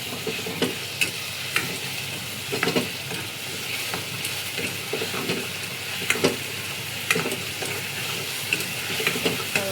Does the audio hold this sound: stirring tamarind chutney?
yes